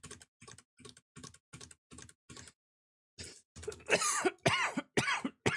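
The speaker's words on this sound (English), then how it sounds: "Did not mean to cough into the mic" A series of evenly spaced soft clicks like keyboard taps, a pause, then several loud, close coughs in quick succession.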